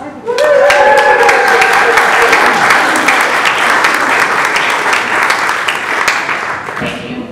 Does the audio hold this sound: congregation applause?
yes